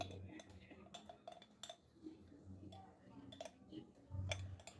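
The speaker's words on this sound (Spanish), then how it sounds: "Vamos a ir mezclando muy bien para que la fécula de maíz se disuelva." Homemade gesso made with cornstarch being stirred in a container, giving light clinks and ticks of a utensil against the sides, fairly quiet, with a voice talking over it.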